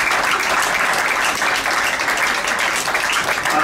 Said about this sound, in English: Let's have a big round of applause for all of you.